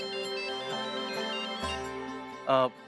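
Mobile phone ringtone rings out as a clear melodic electronic tune, steady and fairly close, with a brief louder burst near the end.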